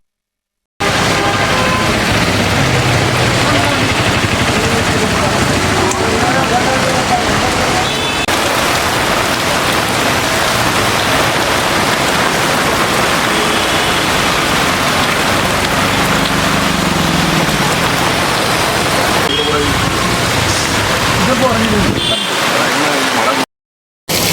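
Steady rain falls across the hill areas of Kanyakumari district in Tamil Nadu, a dense, continuous wash of drops that holds for most of the stretch, with voices talking beneath it at times.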